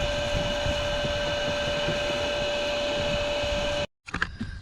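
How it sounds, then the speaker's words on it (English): A vacuum cleaner runs on a sailboat with a steady high-pitched whine and airy roar, then cuts off abruptly near the end, followed by faint clattering. "I'm gonna get the vacuum ready"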